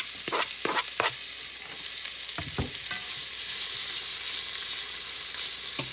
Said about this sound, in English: I've got some chopped bacon right here that I'm going to put in my skillet